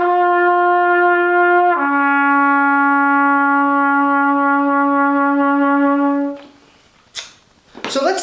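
A trumpet holds a clear sustained note, then drops to a lower pitch a major third down with the second and third valves pressed, the lower tone held steady for several seconds before stopping.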